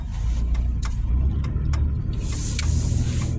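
Cars in a traffic jam rumble steadily as a dense low wash of idling engines, with a few brief higher whines and a hissy passing vehicle near the end, continuous and fairly close.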